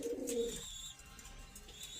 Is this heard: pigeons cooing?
yes